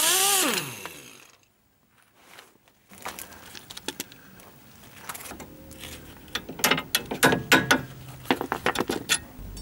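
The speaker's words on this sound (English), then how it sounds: "Remove the nut of the lower ball joint bolt." A ratchet wrench loosens the nut on a lower ball joint bolt during a wheel bearing replacement, giving a brief mechanical rattle, a pause, then a run of quick, loud ratcheting clicks that grows busier toward the end.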